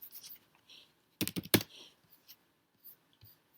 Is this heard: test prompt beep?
no